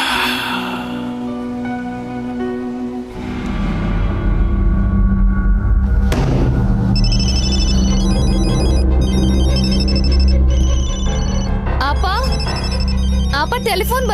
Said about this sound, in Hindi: आपा टेलीफोन बज रहा है।